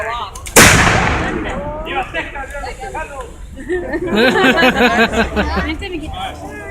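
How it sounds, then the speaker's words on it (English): A loud rifle volley cracks out at once during a live-fire demonstration at the Alamo, followed by a crowd chattering and murmuring in the background. "Ready! Aim! Fire!"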